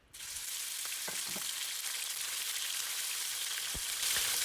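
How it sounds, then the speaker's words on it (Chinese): Chunks of pork belly sizzle in caramelized sugar and oil in a hot wok, a dense, loud, continuous frying hiss with a few light clicks and pops, close up and with no talking. "热锅起油，加入白糖，待白糖融化呈现棕色后，加入切好的五花肉块。"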